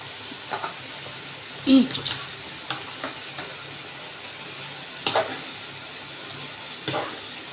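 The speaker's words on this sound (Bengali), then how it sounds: "আমি আগে থেকে ভেজে রাখা আলুগুলো এর ভেতরে দিয়ে দিচ্ছি দিয়ে আরও খানিক্ষণ কষাবো" Potatoes that were fried earlier are added to a pan of spices and stirred, giving a low, steady sizzle with a few scraping knocks of the utensil against the pan.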